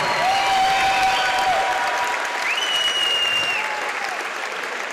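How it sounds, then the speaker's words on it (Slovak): A crowd applauds the fighters at the Noc Gladiátorov 8 fight gala, a broad sustained wash of clapping that fades slightly toward the end, with a few whistles rising above it. "ešte jeden veľký potlesk pre všetkých zápasníkov na Noc gladiátorov"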